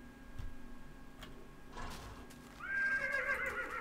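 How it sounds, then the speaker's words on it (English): A horse in the Minecraft video game neighs and whinnies repeatedly, with clip-clop hoof steps and a loud, shrill final whinny, and no talking. "Calm down, horse."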